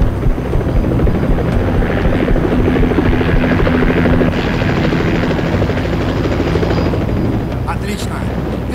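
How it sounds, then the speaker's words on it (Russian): Helicopter arriving in the Battle: Los Angeles video game, a loud continuous rotor thrum and engine roar filling the whole stretch, with faint gunfire and shouting voices underneath. "Вертушка заберет нас отсюда."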